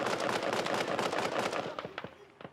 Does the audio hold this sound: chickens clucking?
no